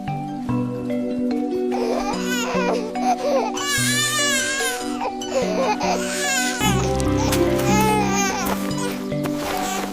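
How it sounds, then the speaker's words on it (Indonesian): A baby wails in sharp, rising and falling cries over a steady musical backdrop, a sound effect in a narrated Sundanese folk legend about Sangkuriang. The crying is loud and close, breaking into several long bursts. "Sepertinya ada suara bayi menangis."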